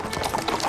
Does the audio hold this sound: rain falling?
no